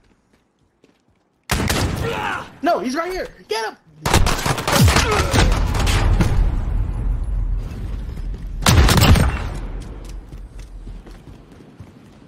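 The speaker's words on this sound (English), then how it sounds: "Gunshots." Bursts of gunfire erupt in a Call of Duty Modern Warfare infected match, starting after a quiet second and rolling into sustained loud rapid shooting with another heavy burst near the end, while a player's voice talks over it.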